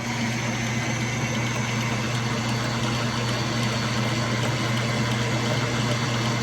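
An air compressor runs continuously beside a 1947 lathe, making a loud, steady, droning mechanical hum with no pauses.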